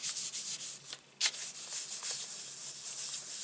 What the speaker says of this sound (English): And just rubbing to get that impression